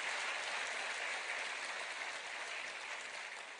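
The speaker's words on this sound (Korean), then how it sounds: "이럴 땐 박수 치셔도 되는데" Audience applause at a sales seminar, a steady dense wash of clapping hands that holds evenly throughout and tapers slightly at the end, with no talk.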